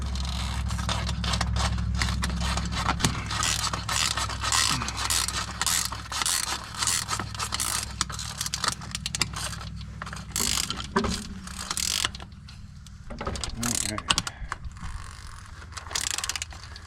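A ratchet wrench tightens bolts on a truck toolbox mount, with rapid clicking pawl bursts repeating close up over a steady low engine or motor hum, pausing briefly between strokes.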